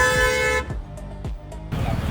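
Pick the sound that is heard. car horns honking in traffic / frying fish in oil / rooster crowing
car horns honking in traffic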